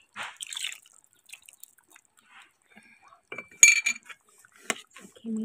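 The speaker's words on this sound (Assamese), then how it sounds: "চাউল গুড়িখিনি দি এনেকৈ লৰাই থাকিব লাগিব, নহ'লে তলত লাগি যাব।" Rice flour is stirred in a cooking pot, giving sparse metallic clinks and scrapes of a spoon against the pot. The sounds come in irregular bursts with quiet gaps between them.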